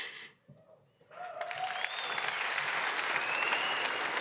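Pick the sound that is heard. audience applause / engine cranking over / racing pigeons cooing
audience applause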